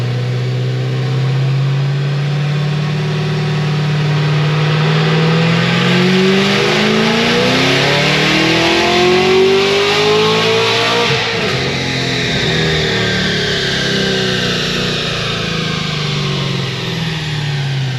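A supercharged Cadillac CTS-V with a Magnuson 2650 blower, making about 1100 horsepower, pulls hard up through the gears. The loud engine note climbs steadily with each shift under a constant supercharger whine, close and with no talk.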